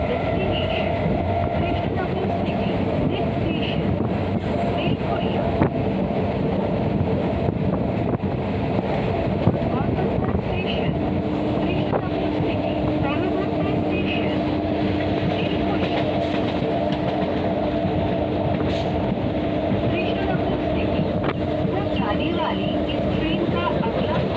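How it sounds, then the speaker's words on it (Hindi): Jaynagar–Sealdah Ganga Sagar Express rolling past on a four-track line, a steady rumbling roar of wheels and carriages heard close from a moving local train, with wind buffeting and a sustained horn-like tone partway through. "और ये जा रहा है जयनगर सियालदा गंगा सागर एक्सप्रेस"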